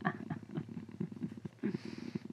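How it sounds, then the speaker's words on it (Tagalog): A cartoon cat's meows and purrs in an animated Tagalog Christmas story about a lamb, a soft rhythmic purring pulse running through the whole stretch with a brief brighter meow-like burst near the start and another past the middle. "Meow!"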